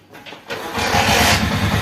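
A motorcycle engine cranks and catches, with a quiet click and a short whir before it settles into a steady, fairly loud mid-pitched idle running on alone.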